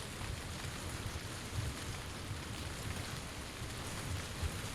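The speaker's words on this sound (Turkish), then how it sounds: "yağmur iyi olmadı ya. Bütün ayak sesini" Rain falls in PUBG on the Erangel map, a steady, even hiss of downpour filling the whole stretch with no break.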